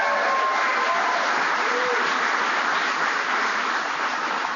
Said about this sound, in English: Give him another round of applause, would you please?